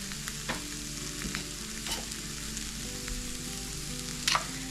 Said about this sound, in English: I have some peppers and onions that I have chopped up. I'm going to cook those.